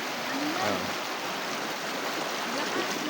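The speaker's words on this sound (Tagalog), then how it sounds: "So, medyo malakas ang current." A fast, strong river current rushing over shallows near a waterfall in Tanay, making a steady, broadband watery roar throughout, with faint voices in the background.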